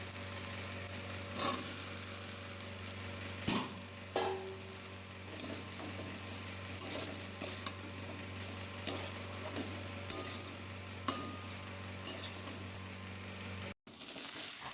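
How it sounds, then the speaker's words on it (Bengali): Fried potatoes and jackfruit sizzle in spice paste in a pan in a home kitchen, a steady quiet frying hiss with occasional soft clicks and stirring knocks, no voices. "এবার আমি ভেজে রাখা আলু আর ইঁচড়টা দিয়ে আর একটু কষিয়ে নেব"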